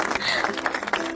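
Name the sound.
people clapping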